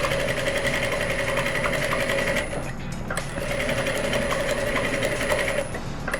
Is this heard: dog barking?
no